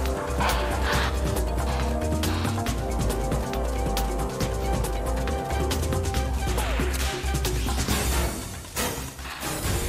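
African wild dogs yip and bark excitedly while hunting, producing a continuous chorus of close, overlapping high calls with short whimpers and scuffling throughout.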